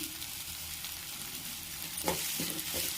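Ginger paste fries in hot oil for a chicken curry, giving a steady soft sizzle with a few sharper crackles and stirring scrapes near the end.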